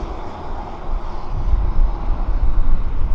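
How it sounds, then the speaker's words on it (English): A USAF C-17 military transport aircraft arriving at Abbotsford, a steady broadband jet engine roar that swells louder toward the end, with no voices. "C-17"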